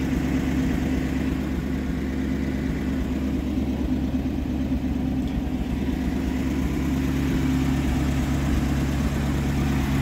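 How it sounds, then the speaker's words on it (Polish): A 1941 Buick Special sedanet's warmed-up engine idles with a steady low rumble and even hum, close and continuous with no talk. "Silnik już pracuje lepiej, jak jest rozgrzany."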